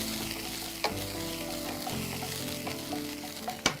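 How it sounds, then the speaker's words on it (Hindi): Paneer sizzles steadily in a pan while a spatula stirs and scrapes it, with a few sharper knocks against the pan surface standing out over the constant frying hiss. "साथ में भून लीजिए।"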